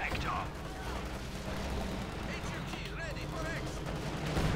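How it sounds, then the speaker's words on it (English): Gunfire and explosions in a Company of Heroes 2 1v1 match, a dense continuous barrage of shots and booms with battlefield noise throughout. "Coming under fire from the T-35."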